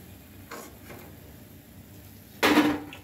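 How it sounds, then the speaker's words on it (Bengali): Crispy golden-brown fried gaja sweets are tossed into a dish, producing a couple of light clinks early on and then one sharp, loud crunching clatter near the end, heard up close. "দেখুন আওয়াজটা দেখলেই বুঝতে পারবেন এখনই কত খাস্তা, বেশি জোরে ওপর থেকে ফেলছি তো টুকরো হয়ে যাচ্ছে।"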